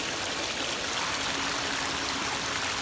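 A monsoon-swollen stream in the hills near Toripani and Beni flows continuously, a dense steady rush of water close by with no voices.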